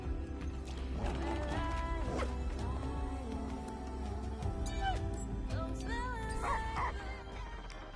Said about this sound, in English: Yeah, pet Volt. Don't zap me. Hey, good boy. Shake hands